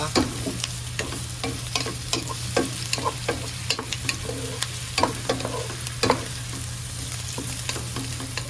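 Boiled kare-kare meat, pressure-cooked with lemongrass, sautéed in a pan: a steady sizzle runs throughout, punctuated by frequent scraping stirs and clinks of a utensil against the pan, close and alone.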